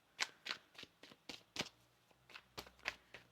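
Tarot cards are shuffled by hand close up, giving a quick run of about eleven crisp riffling snaps and taps in an uneven rhythm, quiet overall.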